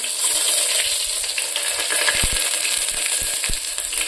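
Chopped onion and cumin frying in oil inside a pressure cooker, a loud close sizzle throughout, with several metallic knocks and scrapes from stirring against the pot.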